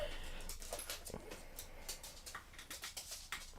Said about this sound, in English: I don't know if y'all can hear my dog losing his mind.